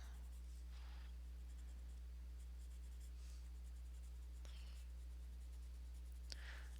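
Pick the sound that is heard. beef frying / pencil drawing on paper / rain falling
pencil drawing on paper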